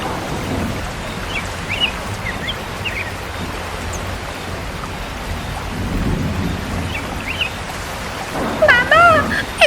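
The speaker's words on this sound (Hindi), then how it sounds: "बारिश शुरू हो गई।" Cartoon rain pours steadily with low rumbling thunder rolling underneath, a dense continuous wash of noise with a louder burst near the end.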